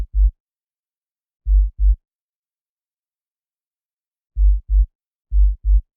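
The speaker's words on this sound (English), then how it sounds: "These MIDI notes at G0 are placed to emulate the rhythm of a heartbeat pulse." Synthesized heartbeat made from low sine-wave MIDI notes at G0 with a soft attack: clean, deep double thumps in a lub-dub pattern, about four pairs spaced by silence, alone with no voices.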